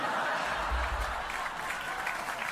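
Steady, moderately loud audience applause from a stand-up comedy show, a continuous wash of clapping with a few faint chuckles in the crowd.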